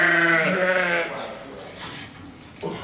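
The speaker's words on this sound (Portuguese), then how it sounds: "Os membros da família ajudam os técnicos da ANCOSE a lidar com as ovelhas Bordaleira Serra da Estrela" A horned Bordaleira Serra da Estrela sheep gives a loud, clear bleat up close during handling on a farm, followed by quieter background noise and a brief second bleat.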